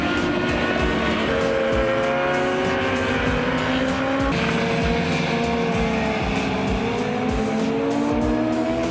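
Race cars lapping the Bugatti circuit at Le Mans, engines roaring continuously with rising and falling revs, gear changes and tire squeal, fairly loud and without talk.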